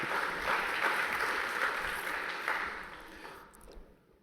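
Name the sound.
audience applause at a UNESCO conference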